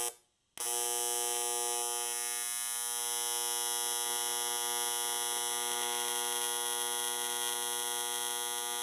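Steady buzzing drone of a welder tack welding aluminum bumperettes for a custom Porsche bumper. The sound starts abruptly after a short silence and holds a constant harmonic electrical hum to the end, with no talking.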